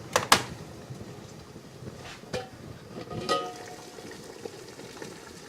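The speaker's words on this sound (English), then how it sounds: "I'm going to let the boiling settle down just a little bit." Water bubbling at a low rolling boil in a canner with the burner off, fairly quiet, with a few sharp clinks and knocks of metal or glass near the start and middle.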